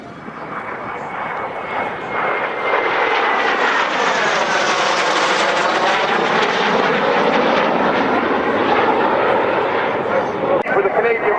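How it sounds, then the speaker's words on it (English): A 73 Squadron Mark T7 jet makes a low pass at an air show. Its loud engine roar rises and sweeps past with a falling pitch, then holds steady, while a commentator talks over it. "The 73 Squadron Mark T7 is coming back in now for the pass."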